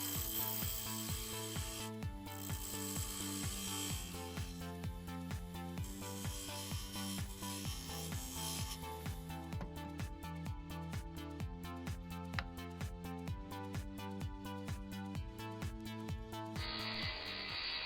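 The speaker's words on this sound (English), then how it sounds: "Onto the lathe to turn the tenons." Wood lathe turning tenons on wooden spindles, a rhythmic, repeating whir and scrape with regular pulses through the cut, steady and close, with no voices.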